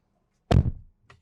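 Suzuki Fronx Hybrid car door swung shut, giving a single solid, deep thud close by, followed a moment later by a faint click.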